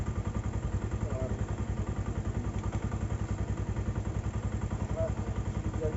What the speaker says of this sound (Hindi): बाइक को थोड़ा स्टार्ट भी कर ली है ताकि गर्म शर्म हो जाए